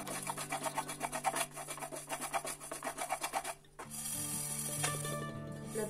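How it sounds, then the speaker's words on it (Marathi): Grated dry coconut is dry-roasted in a pan, with a spatula scraping in a quick, steady rhythm for several seconds before the scraping stops and background music continues. "ड्राय कोकोनट जे काही आपण ग्रेटेड असतो तो टाकू. त्याला असं लालसर छान भाजून घ्यायचं"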